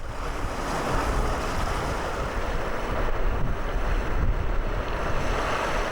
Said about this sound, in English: Once in the water, you may select a higher gear if necessary to reach a speed where a bow wave is created.